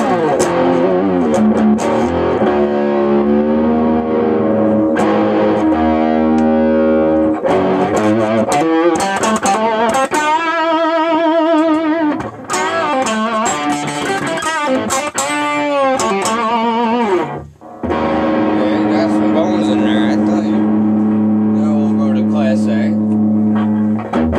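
Loud, distorted electric guitar through a Peavey Windsor tube amp plays sustained chords and bending lead lines with a thick, saturated tone, continuing almost without a break.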